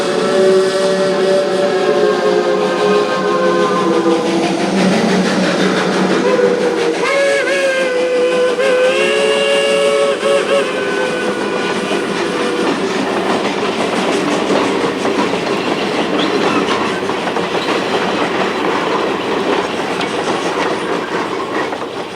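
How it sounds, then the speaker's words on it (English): A steam train plunges into a tunnel, its whistle shrieking in loud sustained blasts over the steady rattle and clatter of the carriages on the rails, which keeps roaring on after the whistle dies away. "the train entered a tunnel"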